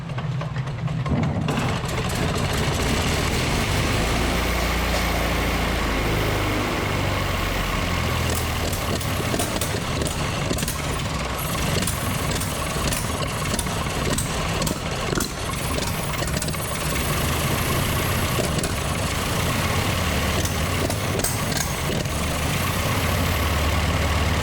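A 1923 REO SpeedWagon engine fires up for the first time after restoration, catching quickly and then running at a loud, rough, steady idle with knocking, uneven beats throughout.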